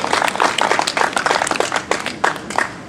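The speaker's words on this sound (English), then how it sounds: "Let's have a round of applause and a big thank you to Brian." An audience at a Labor Day gathering claps and applauds steadily, a dense patter of many hands close by, with faint voices mixed in.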